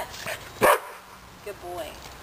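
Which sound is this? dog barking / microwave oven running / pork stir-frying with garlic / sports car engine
dog barking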